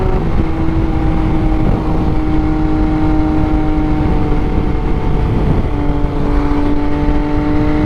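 MV Agusta motorcycle fitted with new rearsets and a blacked-out radiator cover, riding along with a steady loud engine drone and wind, a brief dip in engine note partway through as the rider shifts or eases off.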